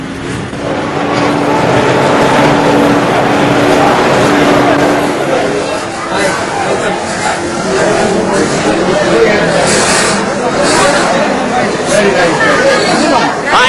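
Crowd chatter at a busy railway station in Madras, a dense babble of many voices with shuffling and a low rumble of trains behind, with some nearby speech in the mix.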